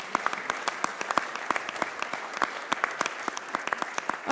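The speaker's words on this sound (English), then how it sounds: "these teams deserve a round of applause for their wonderful presentations" Audience applause after team pitch presentations at a live startup pitch competition, a dense patter of many hands clapping at a steady, moderate level throughout.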